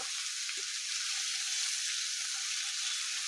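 Spiced food (salt, cumin, turmeric and coriander powder) sizzles in a pan while being mixed, a steady, close hiss of frying with no talk, cooked at home during a power cut.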